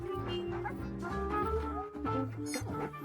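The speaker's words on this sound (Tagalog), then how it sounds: "Ang cute naman ng aso." A small dog yips and barks in quick bursts, close and fairly quiet, over a busy bed of music and other sounds, with no clear speech on top.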